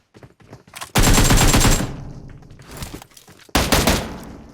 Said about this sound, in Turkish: İniyorum, scope açıyorum, vuruyorum.